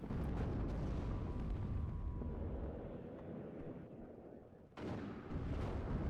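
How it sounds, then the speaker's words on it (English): Weak howitzers in the real-time strategy game WARNO firing counter-battery artillery: a heavy, rumbling roar of distant booms that fades over several seconds, then a fresh blast of fire bursts in near the end. "I believe I have begun trying to counter battery with my weak howitzers, but Tanner is moving."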